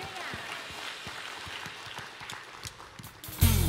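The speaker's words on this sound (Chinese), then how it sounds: "一起再一次拍手赞美他" A church congregation at Sunday worship claps hands in a steady, even beat, the many palms blending into a moderate rhythmic patter beneath voices, ending in a sudden louder burst.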